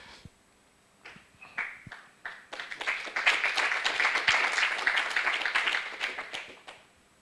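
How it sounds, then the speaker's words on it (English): An audience at a software user meeting breaks into applause, starting with a few scattered claps, swelling into full clapping through the middle, then thinning out at the end. "For the people on the internet, they are clapping"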